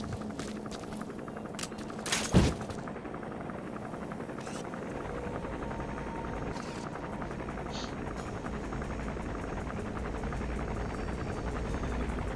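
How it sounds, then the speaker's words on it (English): Enemy helicopter gunship from the video game Metal Gear Solid V: The Phantom Pain, a steady rotor drone and engine hum holding throughout, with a brief sharp burst near the start. "That's an enemy gunship."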